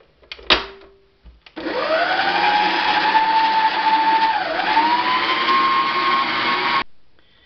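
A stand mixer's whisk beats mascarpone in the mixer bowl with a loud, steady motor whir that holds for about five seconds after a short clatter of fitting the whisk, then dips briefly in pitch and stops abruptly.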